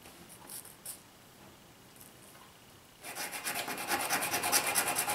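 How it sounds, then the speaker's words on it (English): Sandpaper rubbing a small bump off a part of a camera pan-and-tilt mount, starting with faint scattered scrapes and then building into a rapid, steady rasping rhythm close by. "we have a little bit of a bump here that we're going to take it off with the sandpaper"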